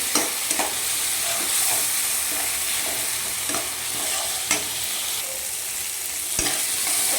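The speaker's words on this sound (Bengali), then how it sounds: "সুন্দর করে নেড়ে চেড়ে নিচ্ছি" Mutton sautés in a pan with a little water, giving a close, steady sizzle while a spatula stirs and scrapes, with a few sharper knocks against the pan and no voices.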